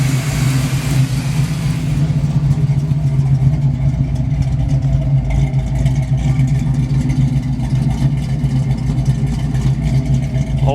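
A Pontiac Firebird engine runs steadily on a new Quadrajet carburetor, a loud, close, continuous low rumble at a smooth idle with slight throttle fluctuation throughout.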